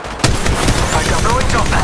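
Dense rapid gunfire in Apex Legends, a loud close burst opening a continuous rattle of shots over busy battle ambience.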